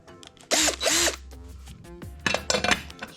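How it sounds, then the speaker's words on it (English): A step drill bores out guide holes in a Honda CT110 engine casing for a cutaway, two loud whining bursts in quick succession followed by lighter clattering and shorter drill pulses. "We just drill them out with a step drill."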